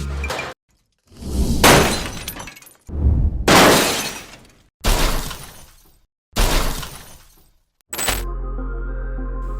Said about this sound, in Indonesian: Mereka memutuskan untuk melihat apa yang akan terjadi jika kedua mobil ini dijatuhkan dari ketinggian.